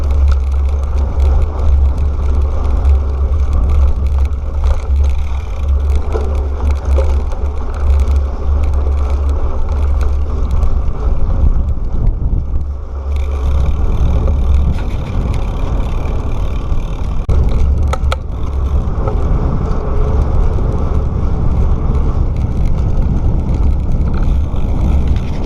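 Engines of vehicles on a main road near Moab, Utah, heard from a bicycle as a steady low rumble mixed with heavy wind buffeting, continuous and fairly loud with no clear separate passes.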